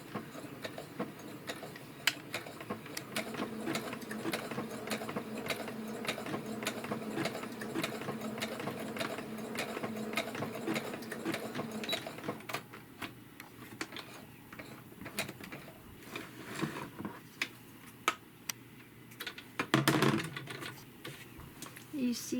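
A sewing machine runs in a steady, rapid chatter while stitching the corner of a washcloth soap-saver pocket, then falls to quieter, intermittent clicks and handling noises.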